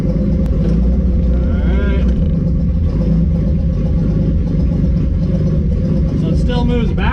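A Datsun 280ZX engine with a Jatco 3N71 automatic transmission runs steadily at close range, a constant low rumble while the car is shifted through its gears.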